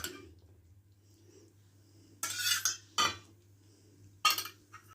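A spoon stirs flour batter with salt and water in a bowl for sweet ladoo, giving three or four sharp clinks and scrapes against the bowl after a quiet stretch.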